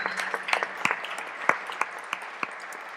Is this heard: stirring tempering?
no